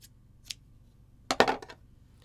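Scissors snip through crochet yarn on a fuzzy Baby Yoda ear for a cup koozie: one faint snip near the start, then a quick cluster of close, crisp cuts, with no talking.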